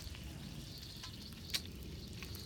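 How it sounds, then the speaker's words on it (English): Bacon and half a stick of butter fry in a pan beside potatoes, giving a steady, close sizzle with a brief sharp crackle partway through. "So pretty much all I gotta do is wait for the bacon to get cooked"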